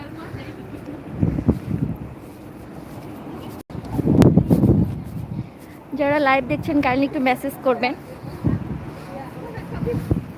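Gusty wind rumbles and buffets the microphone in heavy, uneven surges while a person speaks over it outdoors.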